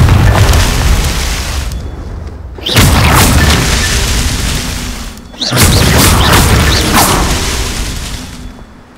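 Two heavy booming spell blasts from a Confringo fire spell in the Hogwarts Legacy video game, each a loud sudden burst rolling into a long rumbling decay, the first at about three seconds and the second near five and a half.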